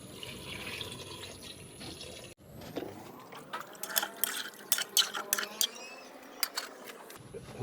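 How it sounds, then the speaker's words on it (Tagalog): Water is poured into a cooking pot holding banana and chicken, a clattering, gurgling fill heard up close with metallic knocks and splashes for several seconds after an earlier stretch of background noise. "Lagyan na rin natin ng tubig guys."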